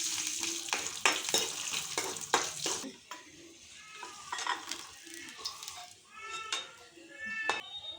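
Dry fruits sizzle as they fry in ghee in a pan for rava kesari, with stirring scrapes and clinks of the spoon against the pan, fairly quiet and close.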